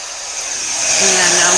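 Handheld heat tool for heat embossing switched on and blowing hot air, a steady close whooshing hiss whose fan pitch rises slightly as it spins up.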